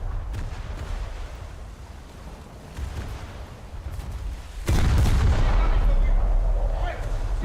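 A naval gun salvo fires in a warship video game: a steady rumbling barrage builds, then a sudden loud, heavy boom hits and lingers with a rolling roar close up.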